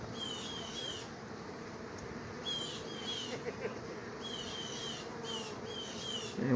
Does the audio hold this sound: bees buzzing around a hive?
yes